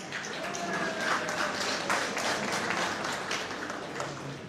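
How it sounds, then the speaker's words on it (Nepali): An audience claps steadily through a comedy show at a Sisnupani Nepal event in Makawanpur, a dense, sustained round of applause filling the room for a few seconds, with some faint voices mixed in. "ताली पुगेन जस्तो लाग्यो त"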